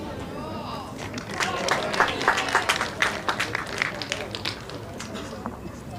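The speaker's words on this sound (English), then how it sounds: "So the round of applause you just heard was for Nicole Irvie that rested Annika Skipper's ball out the head" A round of applause from spectators at an outdoor lawn bowls masters match, moderate scattered clapping swelling midway then thinning out, heard at a distance beneath a commentator's steady voice.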